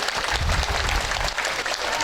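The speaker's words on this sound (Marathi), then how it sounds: "आपण सुद्धा टाळ्या वाजून त्यांचे आभार." Audience applause at the closing ceremony of a week-long Akhand Harinam Saptah kirtan gathering in Patoda village, a dense, steady clapping from a crowd that fills the whole moment without pause.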